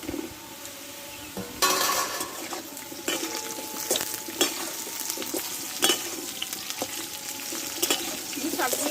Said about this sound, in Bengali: ভালোভাবে একসঙ্গে কষে নেব